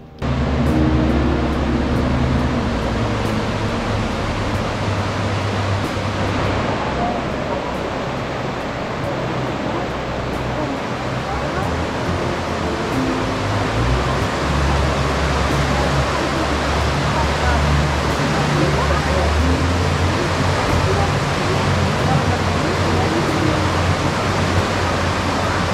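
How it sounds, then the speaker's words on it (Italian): Tidal current surges through the narrow Saltstraumen strait, making a constant, dense roar of rushing, churning water that stays loud and even throughout. "puoi sentire il suono dell'incredibile potenza della natura quando 400 milioni di metri cubi d'acqua si gettano vorticosi nello stretto"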